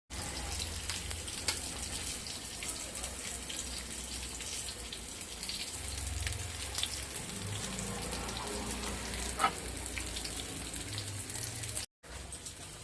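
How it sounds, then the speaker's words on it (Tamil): Fish frying in a pan on a stovetop: a steady, rain-like sizzling hiss with scattered crackles, moderately close and continuous, with a brief dropout near the end. "மீனையும் பொறிக்க அடுப்பில் போட்டாச்சு மீனை போட்டாச்சு"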